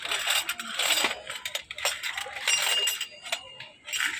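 Glass beads clink and rattle as they are sorted and picked out by hand in a store, giving a busy run of small bright ticks and chinks close by, with faint voices in the background.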